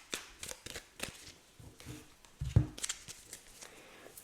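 Tarot cards shuffled by hand in two batches, a run of soft riffling flicks and taps up close, with a brief heavier thump partway through.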